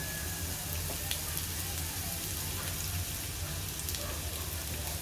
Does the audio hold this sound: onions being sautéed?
yes